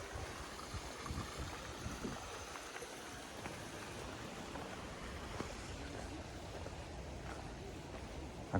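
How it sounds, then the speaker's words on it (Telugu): Fresh water rushes into farm fields outdoors in a steady broadband wash, continuous and moderately loud, with no talk over it. "ఇగో పొలాల్లోకి వాటర్ వస్తున్నాయి చూడండి"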